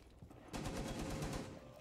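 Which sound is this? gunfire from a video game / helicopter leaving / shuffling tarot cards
gunfire from a video game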